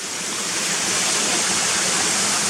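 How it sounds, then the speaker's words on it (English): A waterfall on a rocky brook in the countryside between Gunnerside and Muker roars close by as a loud, steady, unbroken rush of falling water with no pauses. "So that's the waterfall that I missed the last time I came here."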